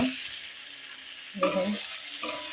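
Flat bean bhaji frying in a pan gives a soft, close sizzle, broken by a couple of louder scraping stirs of a spoon against the metal.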